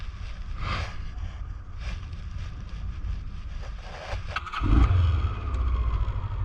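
A Honda car engine idles steadily up close, a low continuous rumble with some wind buffeting over it.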